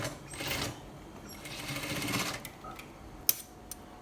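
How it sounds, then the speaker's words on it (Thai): A sewing machine re-stitching the waistband seam of a pair of jeans, its steady whirring run close by in two stretches, followed by a few sharp clicks and taps, with no talking. "แล้วทำการเย็บล็อกใหม่ ให้มันอยู่ประมาณนี้ แล้วก็ล็อกไว้"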